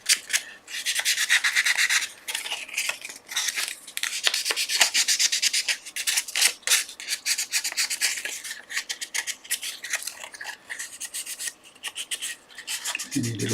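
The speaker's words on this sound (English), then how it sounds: "it's just a matter of a little bit of sandpaper just to tidy up any tear out that you might have" Sandpaper rubs steadily over the wood of a tiered Japanese box, tidying tear-out after a dovetail cut, a close, continuous raspy scratching in rapid back-and-forth strokes with short pauses, no talking.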